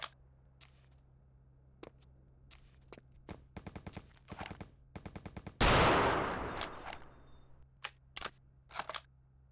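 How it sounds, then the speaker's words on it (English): Distant gunfire in the video game Return to Castle Wolfenstein comes as scattered sharp shots and short automatic bursts, with one louder sustained blast in the middle fading out, over faint background hum. "I do like how the gunshots sound different at a distance"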